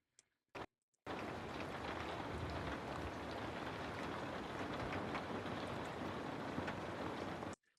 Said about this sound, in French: on commence par la pluie. C'est le bruit ambiant